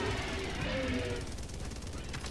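Gatling sentry guns firing nonstop in the co-op shooter Helldivers 2, a steady, rapid mechanical rattle of automatic fire under a player's voice.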